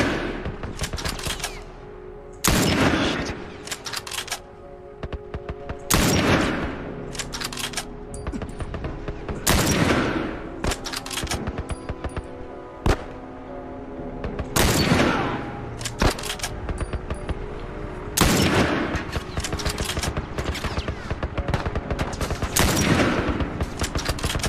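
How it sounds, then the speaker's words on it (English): Gunfire in The Last of Us while shooting at enemies: loud, close bursts of shots recur every few seconds over a low rumbling background, some single cracks, some rapid volleys. "just keep shooting the guys"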